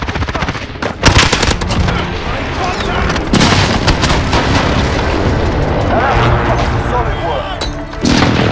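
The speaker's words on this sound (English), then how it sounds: "Precision airstrike inbound." Heavy airstrike explosions in the video game Modern Warfare, loud booming blasts and rumbling impacts mixed with rapid gunfire, dense and continuous close up.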